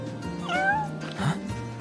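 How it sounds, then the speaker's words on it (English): A cat in the Final Fantasy XV video game gives a short, rising meow, then a second softer call, close and fairly quiet over faint game background sound. "Hey, you're the cat we saw in Golden. Meow."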